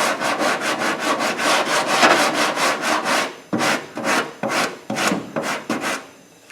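A file or sanding block rasps rhythmically over body putty on car metal, a steady run of close, loud strokes that becomes slower and more spaced in the second half, with no speech.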